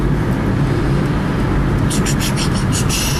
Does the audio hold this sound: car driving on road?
yes